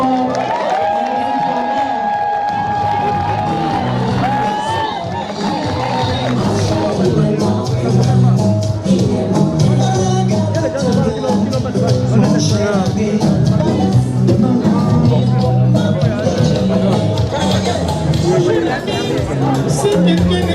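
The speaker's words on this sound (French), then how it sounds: "Est-ce qu'on peut encore applaudir très très fort?" A ceremonial audience at a decoration ceremony claps and cheers loudly and steadily throughout, with crowd chatter mixed in under the applause.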